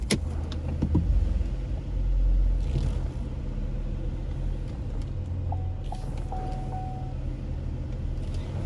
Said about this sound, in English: I'm parking the car.